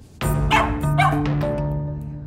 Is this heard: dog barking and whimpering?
yes